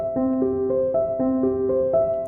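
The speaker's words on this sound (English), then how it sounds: "Without pedal, it sounds like this." Piano chords played without the sustain pedal, detached and separate, each chord cut short before the next in a steady even rhythm, close and clear with no talking.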